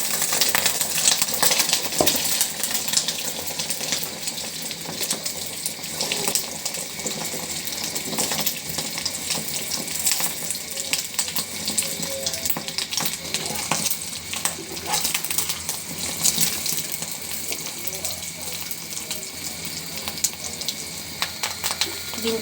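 Egg frying in hot oil in a village kitchen, a steady loud sizzle running throughout with occasional scraping and clinks of a utensil.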